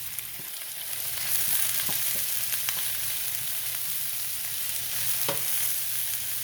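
Vegetables for a supreme pizza topping sauteing in a skillet, a constant close sizzle with occasional sharp crackles and utensil clicks as they are stirred, no voices.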